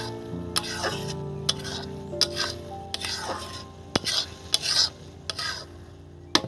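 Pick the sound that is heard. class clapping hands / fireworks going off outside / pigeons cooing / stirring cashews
stirring cashews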